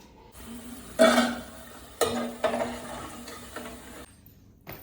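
Pakoras dropped into hot oil in a pan, with a sharp burst of sizzling as each one goes in, about three or four separate splashes of crackle over a quiet kitchen background, no talk.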